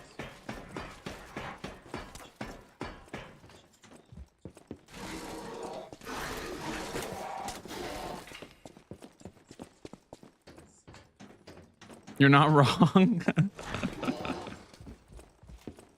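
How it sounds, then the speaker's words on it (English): Footsteps ring on stone in the Lies of P video game, a steady run of sharp, rhythmic taps, with a louder burst of game sound and a brief spoken line mixed in. "even like the footsteps on stone sound great"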